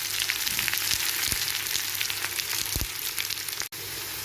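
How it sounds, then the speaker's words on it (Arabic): Grated garlic sizzling steadily in a hot pan, a bright, constant frying hiss close up, with a few scraping stirs and a brief dropout near the end. "يلا بينا على الطاسه اللي فيها ننزل بالثوم ونقلب تقليبه حلوه كده"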